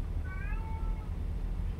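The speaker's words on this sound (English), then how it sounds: "And if you hear a kitty cat in the background" A cat meows once, a brief rising-and-falling cry heard in the background over a steady low engine-like hum inside a truck, with no talking.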